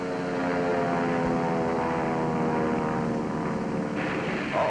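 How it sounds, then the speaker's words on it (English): A big four-motored Kawanishi seaplane, 20 tons, flies overhead as a steady loud propeller drone with layered engine harmonics, holding constant throughout with no voices. "20-ton, four-motored Kawanishi seaplane, the kind we call Emily's."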